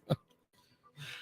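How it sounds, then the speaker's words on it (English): A person clears their throat once with a quick, close rasp, followed by faint breathy sounds, quiet and alone. "Clear your throat."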